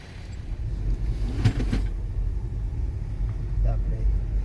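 Range Rover Sport with a 3.0 TDV6 diesel engine on a road test, a steady low rumble of engine and road noise from inside the cabin with a few brief knocks over the drone.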